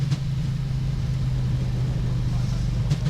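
A Boeing 737 MAX applies reverse thrust after landing, a loud continuous low roar and rumble that holds steady throughout, with a faint voice briefly present.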